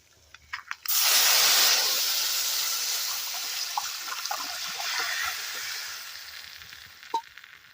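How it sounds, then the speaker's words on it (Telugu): Tamarind water poured into a hot pan of rasam spices and pepper bursts into a loud, sudden sizzling rush after a few soft clicks, then fades slowly into a gentler bubbling hiss with a sharp clink near the end. "మనం రెడీ చేసి పెట్టుకున్న చింతపండు నీళ్ళు అయితే దాంట్లో అయితే పోసేసుకున్నాం"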